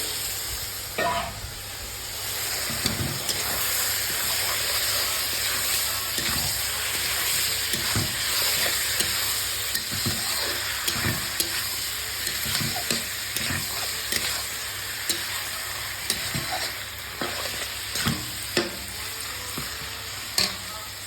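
Meat sizzling in a hot pan as it is added and stirred, a steady dense frying hiss with scattered clicks and scrapes of the spoon, close and continuous, with no speech.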